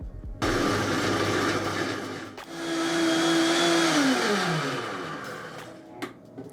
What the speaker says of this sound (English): I just blended this for about a minute, slowly working my way up the dial on the Vitamix, all the way up to 10.